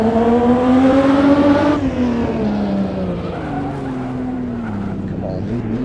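A 1929 Bugatti race car with very poor brakes skids while slowing in Assetto Corsa on the Monaco street circuit, its loud engine note dropping steadily in pitch under a rough, continuous tire scrub, with no talk.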